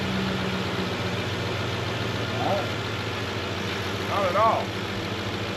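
A work rig's truck engine idles steadily at a low rumble, fairly close, with a person speaking briefly over it.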